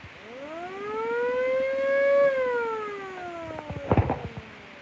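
A Federal Signal Model A mechanical siren with its damper closed winds up into a loud rising wail, holds, then slowly winds down, with a few sharp clunks near the end as it spins to a stop.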